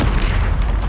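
A Bombarda spell explosion from Hogwarts Legacy erupts as a loud, deep boom that fills the whole moment, close and heavy with a rumbling body and no talk.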